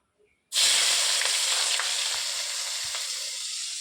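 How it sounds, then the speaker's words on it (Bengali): Chopped onion dropped into hot oil already tempered with whole spices (dried red chilli, cumin seeds, bay leaf, garam masala), bursting into a loud, steady sizzle that holds close and continuous, with faint stirring clicks. "সব ফোড়নে দিয়ে এবারে দেখো পেঁয়াজ কুচি দিয়ে দিলাম"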